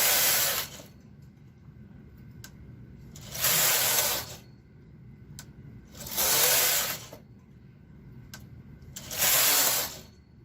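Knitting machine carriage drawn across the bed to knit rows, making three loud rushing, rattling passes about three seconds apart, with quieter clicks and handling noise between them and no talking.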